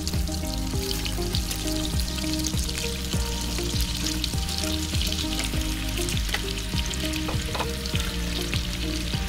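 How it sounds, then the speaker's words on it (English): Steady, crackling sizzle of chicken frying in butter, with constant popping and spitting close up and no voices. "let the butter melt and start frying the chicken thighs"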